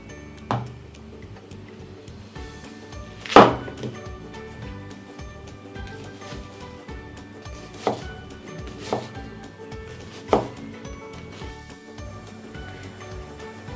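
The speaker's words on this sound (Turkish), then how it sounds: "Bir adet soğanımız vardı. Şimdi onu küçük küçük doğrayacağım." Sparse knife chops of an onion on a cutting board, a handful of irregular sharp knocks spaced seconds apart over quiet kitchen background.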